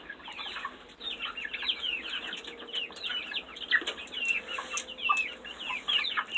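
Barred Rock chickens in a farm setting cluck and chirp steadily throughout, with busy overlapping calls at close to moderate range and no talk.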